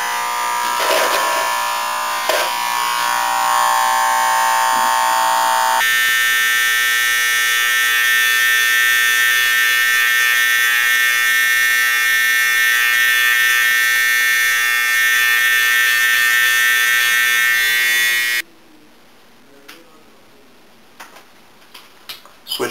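Electric hair clipper and trimmer buzzing steadily and loudly during a long-hair lineup, a dense continuous drone that shifts tone partway through, then cuts off near the end, leaving faint handling sounds.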